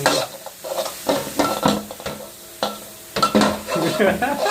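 Wild boar pork and garlic stir-fried in a wok, with repeated scraping and clanking of a utensil against the pan over a steady sizzle, loud and close.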